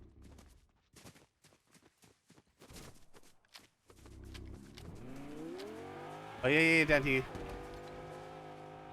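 Car driving nearby in the Fortnite video game, an engine rising in pitch and growing louder as it approaches, with a brief burst near the end, after footsteps and game sounds while a player talks.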